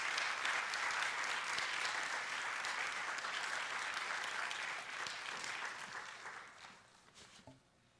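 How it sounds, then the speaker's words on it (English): An audience applauds an award recipient at an education talk event, dense sustained clapping from a large crowd that holds steady for several seconds and then tapers off to a few scattered claps. "Please join me in giving a warm round of applause"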